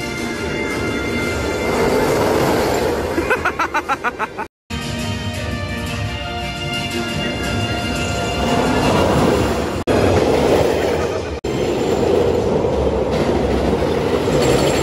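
Steel roller coaster train of the Wonder Woman ride at Six Flags, heard from the back row: loud continuous rumble and rattle of wheels on track, with brief dips in the roar and a sudden cutout partway through.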